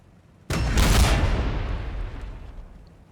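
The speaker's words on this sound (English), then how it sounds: "Fine, we'll just shoot you with a battle cannon a whole bunch." A single heavy battle cannon shot from a Warhammer 40,000 battle between Astra Militarum and T'au, a sudden loud boom with a long rumbling tail that slowly fades.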